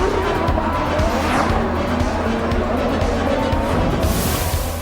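Champ cars at the start of the Long Beach Grand Prix collide amid loud, continuous racing engine roar, with tire squeal and skidding layered over the dense mechanical noise.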